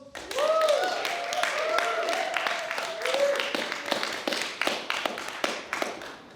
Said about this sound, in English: make me feel special with some applause